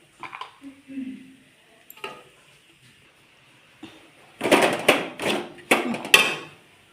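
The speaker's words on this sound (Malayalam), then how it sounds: "മല്ലിയില കൂടെ ഒന്ന് ചേർത്ത് നന്നായിട്ട് ഒന്ന് മിക്സ് ചെയ്യുക" Chicken cutlet mixture being stirred together with fresh coriander leaves in a bowl: a few faint scrapes at first, then a louder run of brisk, scratchy mixing strokes near the end.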